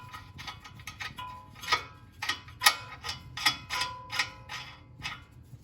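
A ratcheting wrench loosens size 16 screws on a VW Jetta during a lowering spring install, giving a series of close, uneven clicks and short ratchet bursts over a faint background hum.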